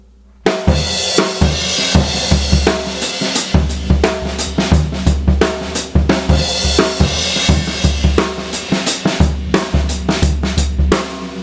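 A drum kit plays a beat with a triplet feel: punchy kick and snare hits over continuous cymbal wash in a steady rolling groove, loud and close, with no talk.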